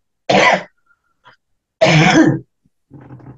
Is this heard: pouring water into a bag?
no